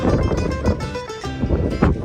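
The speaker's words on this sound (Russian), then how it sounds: "Просто, чтобы вы понимали, какой ветер." Strong wind in Doha, Qatar buffets the microphone in steady low rumbling gusts, loud and continuous with no talking.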